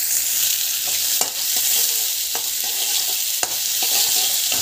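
Onions frying in a pan for a high-protein evening snack, a loud, steady hiss of sizzling oil broken by a few sharp scrapes as they are stirred.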